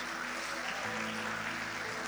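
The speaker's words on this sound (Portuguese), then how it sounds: "Nós aplaudimos o teu nome, Jesus." A church congregation applauds together during worship, a steady, dense wash of clapping that fills the space without pause, with a low hum of voices underneath.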